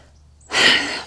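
A single close, loud breath, a sudden exhale or gasp, rises out of near silence and fades slowly, recorded in Ojai, California.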